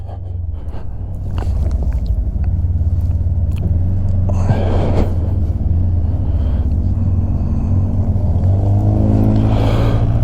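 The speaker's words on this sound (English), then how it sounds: "This is the one that we're riding right now, is the Ranger 1000 Premium." A Polaris Ranger 1000 Premium side-by-side drives along with a loud, steady low engine drone and rumble, with gravelly road noise and a few brief bursts of higher-pitched engine revving.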